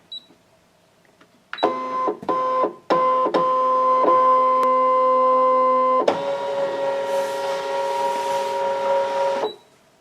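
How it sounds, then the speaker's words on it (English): Brother ScanNCut machine scanning a photo mat to USB: a close motorised whir with stacked tones, starting and stopping in several short bursts, then running steadily for several seconds before shutting off. "I'm going to put the mat into the computer, into the machine. And this time I'm going to scan to USB."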